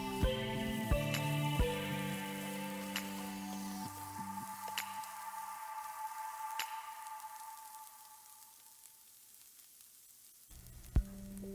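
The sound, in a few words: cabbage sautéing in a pan for chicken fried rice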